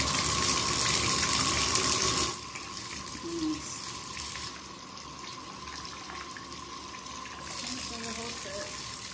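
Water gushes loudly from a tap into a bathtub for a couple of seconds, then drops to a quieter trickle and splashing, with a person talking nearby.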